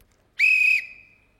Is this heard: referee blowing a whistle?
yes